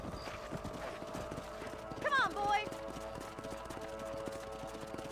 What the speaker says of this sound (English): we had to get on our horses to ride around to the backyard